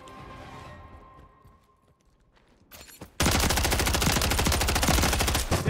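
Dense, rapid automatic gunfire from a Call of Duty match featuring the MTZ 556 rifle, loud and continuous through the second half after quieter ambient game sounds and a few scattered shots.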